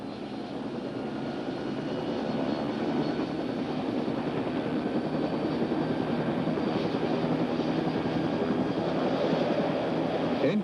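An OH-58A Kiowa helicopter's turbine engine runs as the throttle is slowly opened toward full, a dense, steady roar and whine that grows slightly louder after the first couple of seconds.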